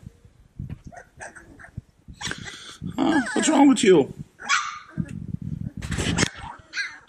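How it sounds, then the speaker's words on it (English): Cane Corso puppies in a whelping pen yipping, barking and growling in bursts, close up and fairly loud, with someone speaking briefly between the noises. "it is just all growls and barks in my whelping pen right now."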